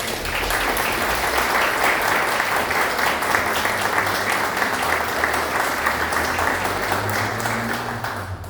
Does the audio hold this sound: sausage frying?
no